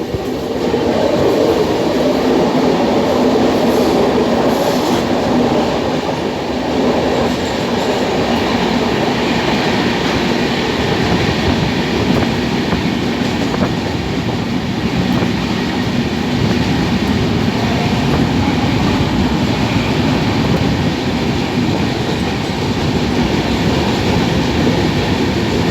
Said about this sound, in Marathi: जेव्हा सगळे साखर झोपेत असते त्यावेळेस हे बोगदे पार करत ट्रेन जाते